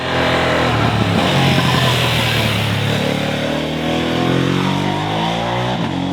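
BMW F 900 XR or Ducati Multistrada V2 S motorcycle engine, a loud, steady close-up drone with rising and falling pitch as the bike accelerates past, sustained throughout.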